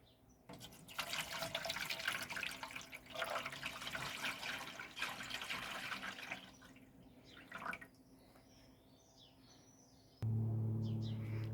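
Water poured into the tank of an iDOO 12-pod hydroponics growing system, a steady splashing pour for several seconds that tapers off, followed by a louder low hum at the end.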